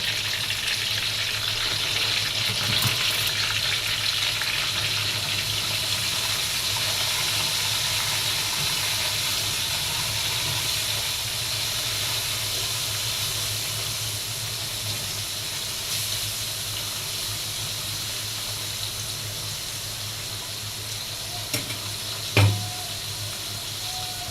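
Pieces of fish fry in hot oil, giving a steady, even sizzling hiss that holds for the whole stretch, with no talk over it and only a faint click near the end.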